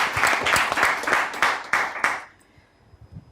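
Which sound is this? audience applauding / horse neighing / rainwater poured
audience applauding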